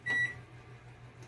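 Microwave oven keypad beeps while the cook time is set: a short, quiet, high electronic beep, then a brief pause and the start of another, against a soft kitchen hum.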